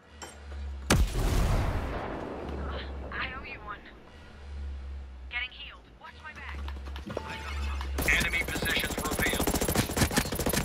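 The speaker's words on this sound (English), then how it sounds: "Grenade." A grenade goes off in the tactical shooter Ghost Recon Breakpoint, a loud booming blast amid bursts of gunfire and game noise, with players talking over the chaos.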